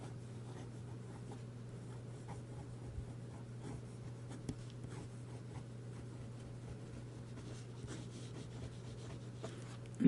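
Lamy fountain pen with a wet-writing nib scratching steadily across paper, a faint continuous close-up rub under a low steady hum, with no voices.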